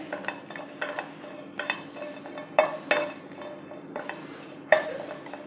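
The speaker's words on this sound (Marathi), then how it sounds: "त्या अगोदर असंच कोरडं थोडंसं भाजून घ्यायचं" Five or six green chillies dry roasting in a pan without oil, heard as intermittent metallic clinks and scrapes of a utensil against the pan with a faint sizzle, close and moderately quiet.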